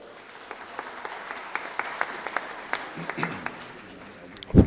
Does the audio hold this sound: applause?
yes